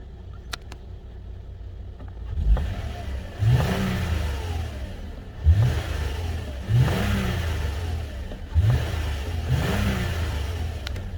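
A Toyota Aurion Sportivo (XV40) engine with 250,000 km turns over and settles into a steady idle, with several short revs rising and falling at regular intervals, close and fairly loud.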